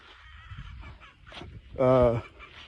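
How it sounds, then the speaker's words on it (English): A loud, harsh squawking call from a hen on a homestead rises briefly over quiet talking and outdoor background noise. "you can hear one of the hens making crazy noise in the background"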